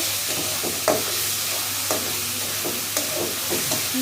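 Salt, turmeric and chili powder are stirred through eggs and dal cooking in a pan, with a continuous sizzle and light rhythmic scraping of the spoon, fairly close and with no voices.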